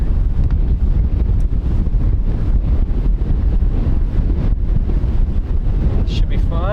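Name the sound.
wind on a golf course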